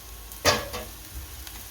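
Semolina handvo batter frying in oiled pan, a short sizzle flares as it's turned, then a faint steady crackle underneath.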